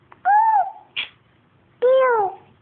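A voice imitates a cat, giving two drawn-out meows separated by a short squeak, close and clear against a quiet background.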